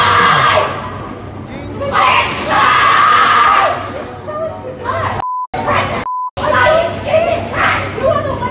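A woman yells and screams wildly while being arrested for causing a scene at a Walmart, her loud, strained cries running almost continuously over crowd noise, broken by two short beeps near the end.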